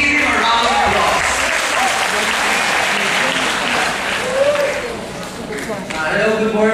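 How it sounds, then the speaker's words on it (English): An audience at a Wikimedia Philippines talk breaks into sustained, fairly close applause that fades a little and then swells again. "Let's give him a round of applause."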